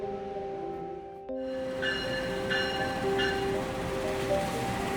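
Priority luxury tourist train operated by PT Kereta Api Pariwisata, running with a steady rumble and rail noise, joined by a few bright repeated bell-like dings that sound close and clear.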